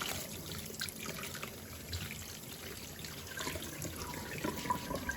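Water runs and trickles steadily while a leaf print dyed with indigo is washed with soap, a soft continuous splashing at a sink, fairly quiet and unbroken.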